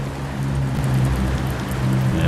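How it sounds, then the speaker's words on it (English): Steady rain patters near a ship at Southampton port, a continuous dense hiss with a low engine or harbour rumble beneath and no voices. "Now I can hear the pitter-patter of the rain."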